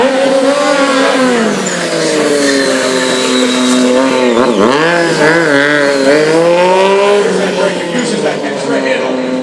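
Two Triumph Street Triple motorcycles doing circle wheelie stunts at a stunt show, their engines whining loud and near, rising and falling in pitch as they rev and arc around, with a voice running over them.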